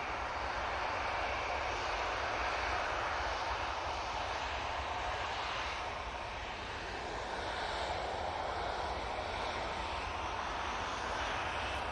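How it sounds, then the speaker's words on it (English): A Ryanair airliner departing Manchester Airport for Marseille, a steady distant jet rumble that swells slightly and fades a little midway, with no voices. "That Ryanair was off to Marseille."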